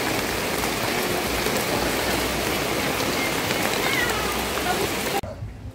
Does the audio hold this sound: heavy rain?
yes